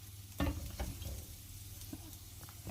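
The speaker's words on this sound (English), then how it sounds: "just like any normal onion, we are just going to soften them up a bit" Onions fry softly in a pan with a steady low sizzle, close and quiet, punctuated by a few faint scrapes and taps as they are stirred.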